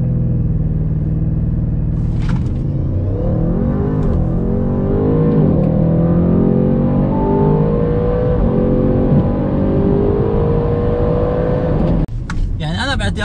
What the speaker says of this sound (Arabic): نجرب نتسارع من 0 ل 100؟